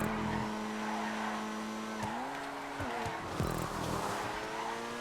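Supercars racing and overtaking in GTA 5, loud engine whine climbing through gear shifts with sudden pitch drops, tire squeals and skids as cars pass one another, continuous and close.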